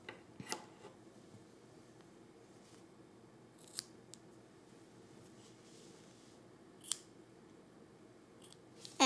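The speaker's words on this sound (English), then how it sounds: "And then we're gonna snip the knots that we used off." Scissors snip off leftover knots on a woven piece, giving a few sharp, quiet clicks spaced apart over a soft steady background hiss, with no talking.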